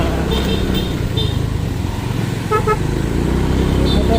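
A 2007 Honda Gilas 125 motorcycle rides along a winding mountain road in Tanay, Rizal, its engine a steady loud drone under rushing wind, with brief horn toots from passing traffic.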